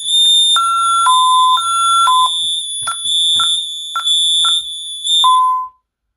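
An ADT Safewatch Pro alarm system on a demonstration board sounds during a test: loud, piercing electronic beeps in an irregular series of short and longer tones, ending abruptly.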